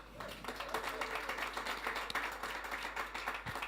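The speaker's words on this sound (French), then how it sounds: "On applaudit Fred." A French TV studio audience applauding, a moderate patter of many hands clapping at an even rate, slightly distant and continuous for a few seconds.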